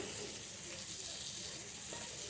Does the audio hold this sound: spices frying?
yes